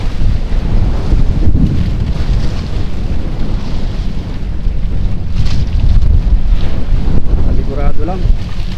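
Strong wind roars across a boat at sea, a loud continuous buffeting rumble against the microphone with water noise underneath and a brief voice near the end.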